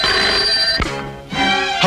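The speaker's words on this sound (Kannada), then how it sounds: "ನಿನಗೆ ಫೋನು." A telephone bell rings in a Kannada film scene: a loud, close, bright electric ring that breaks off, pauses briefly, then starts again.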